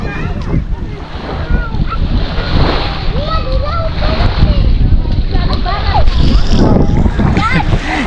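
Children splash about bathing in the sea at a beach, with irregular splashes and surf under wind noise while people talk loudly and close by throughout.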